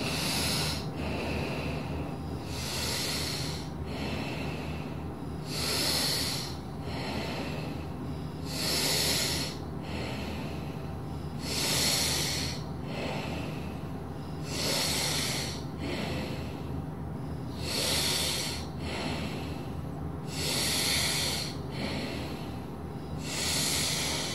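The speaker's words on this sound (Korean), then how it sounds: "네 번째 손가락으로 왼쪽 코를 막고 오른쪽으로 2초에 마시고 내쉬고 2초에 마시고 내쉬는 걸 10번 합니다" Yoga breathing through the right nostril alone with the left one held shut: steady, airy nasal inhales and exhales repeating in an even rhythm of about two seconds each, close and clear, with no talking.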